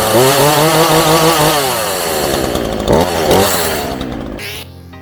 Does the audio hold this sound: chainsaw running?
yes